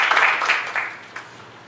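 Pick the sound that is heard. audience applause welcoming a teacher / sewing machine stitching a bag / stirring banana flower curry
audience applause welcoming a teacher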